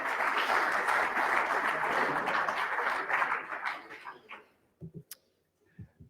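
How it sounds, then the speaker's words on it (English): An audience at a commercial real estate technology event applauds a speaker. The clapping is loud and dense at first, then thins out, and a few scattered claps and faint sounds trail off into quiet. "Big hand clap for Michael."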